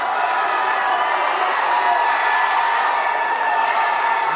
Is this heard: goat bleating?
no